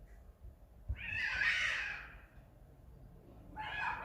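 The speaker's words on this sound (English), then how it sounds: "I think that's my cat, but I can't help her." A cat meows twice, a drawn-out plaintive cry lasting about a second followed later by a shorter call, fairly close against a quiet room with no talking.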